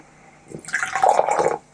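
Fizzy soft drink poured into a glass, a short close burst of splashing liquid that starts with a few drips, swells into a steady gurgling stream and then stops abruptly.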